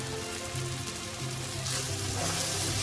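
Spice powder for chickpea curry sizzling in a pan, a continuous close frying hiss that grows brighter and louder partway through, with no talking.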